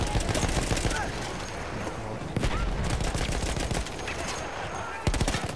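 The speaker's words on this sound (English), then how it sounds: "Let's take out this machine gun." Rapid bursts of machine gun fire in the Battlefield 1 video game, loud and close, with dense rattling volleys and brief pauses between them.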